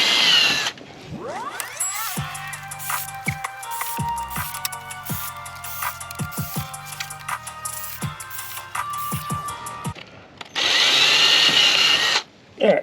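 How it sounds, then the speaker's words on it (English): A power drill with a small bit bores pilot holes in a GTO car's front splitter lip: a close, loud whine that rises and falls in several bursts, then a final high-pitched spin-up. "I'm going to drill a couple little pilot holes"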